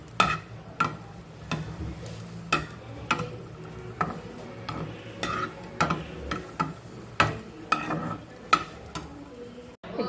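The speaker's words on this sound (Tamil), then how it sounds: "கடுகு பருப்பு போட்டு வரமிளகாயும் போட்டாச்சு" Mustard seeds, dal and dried red chilies crackle and spatter in hot oil for a mango pachadi tempering, with repeated sharp pops over a steady sizzle and occasional pan clinks, close and fairly loud, no talking.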